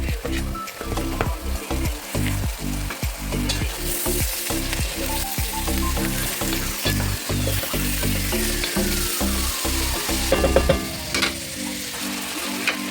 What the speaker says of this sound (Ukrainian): Даємо сюди морковку. І також обсмажуємо.